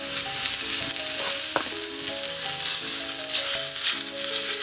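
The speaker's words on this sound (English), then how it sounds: "I'm going to add the pound of ground beef to the pan." Ground beef sizzling loudly in a pan for a casserole, with a steady dense crackle, occasional stirring scrapes and a few faint clinks, close and continuous with no talking.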